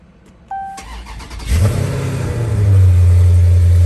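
A car engine starts with a sharp catch, then revs up and settles into a steady, loud low rumble from a stock exhaust.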